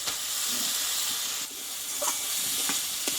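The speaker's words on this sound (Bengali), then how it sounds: "এই মশলার সঙ্গে একটু আমি একটু ডালটা একটু ভেজে নেবো" Moong dal frying with spices in a pan makes a steady sizzle close by, with a few short scrapes and knocks of a spatula stirring it.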